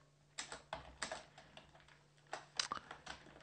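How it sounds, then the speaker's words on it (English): Clicky keystrokes on a computer keyboard while entering C++ code, arriving in short irregular bursts of several taps with brief pauses, close and fairly quiet, with no talking. "Let's type in std colon colon"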